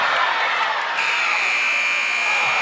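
Loud arena buzzer sounding at the end of a 2025 SEMO Conference Tournament college basketball championship game, a sustained electronic tone kicking in after a second of crowd noise and continuing to the end.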